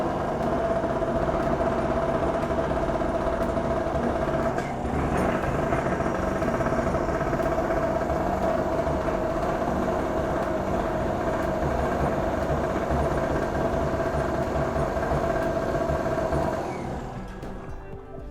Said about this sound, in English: And after fixing that, the generator came on.